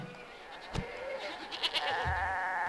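Goats on goat farms in the video game CivCity Rome bleat a few times over a steady background of game ambience and music, moderately loud, with no talking.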